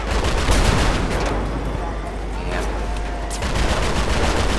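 Dense, loud bursts of rapid gunfire from the video game GTA V, played with a mod featuring a tiny tank, fill the scene as a continuous rattling barrage with brief dips.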